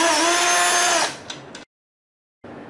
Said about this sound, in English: we're going to go ahead and take our power drill and we're going to pull off this end cap here on the end of our 20 by 60